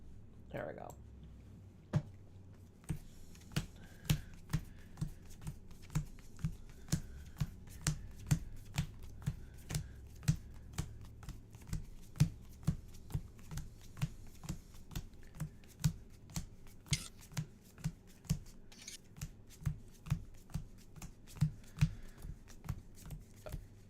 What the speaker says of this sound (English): Done with the pre-shuffle. Now we can actually do the shuffle.